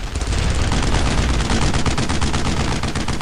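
Continuous machine gun fire in the World War II shooter Brothers in Arms: Road to Hill 30, a loud, dense stream of rapid shots that runs unbroken for the whole stretch with no talking.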